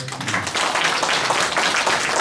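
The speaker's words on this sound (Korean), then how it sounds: "박수 한번 쳐주시죠" An audience at an elderly healthcare policy forum breaks into steady, dense applause for about two seconds, a broad even wash of many hands clapping in a hall.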